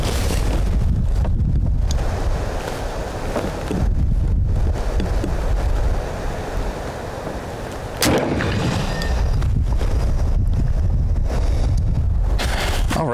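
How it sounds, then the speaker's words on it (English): Gusty northwest wind buffets the microphone outdoors, a loud, continuous rumbling roar that swells and drops in uneven surges with no talking. "the wind is right out of the northwest"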